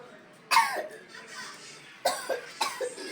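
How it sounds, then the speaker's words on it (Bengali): A child coughs close by in three short bursts of harsh coughs spaced a couple of seconds apart, each trailing into a throaty rasp. There is no talk between them. "ও বাবা, কাশি হচ্ছে কেন?"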